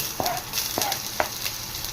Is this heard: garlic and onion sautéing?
yes